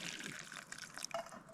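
Water runs faintly into a cooking pot for making powdered milk during backpacking meal preparation, a short, soft trickle with a brief splashy patch.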